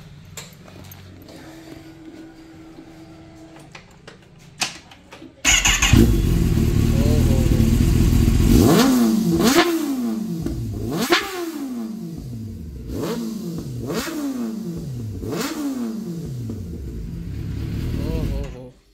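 A heavily modified Kawasaki ZX-10R sport bike fires up after a quiet stretch with faint voices, then its loud, close exhaust barks through a series of sharp throttle blips, each rising rev falling back to a rumbling idle.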